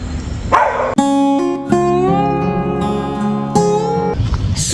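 Several dogs bark and yelp loudly on a street in Nashik, India, with sharp repeated barks and a drawn-out whining, howl-like call in the middle, all close to the microphone.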